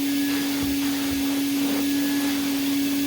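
A Prolux CTX vacuum runs with a straight suction nozzle on couch fabric, giving a steady loud motor whine with a strong tonal hum and airy suction rush, plus faint scratchy brushing.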